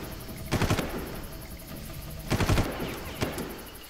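Automatic gunfire from enemy mercenaries in the shooter game Far Cry, coming in two sharp rattling bursts plus a short single shot, moderately loud over a steady background hiss.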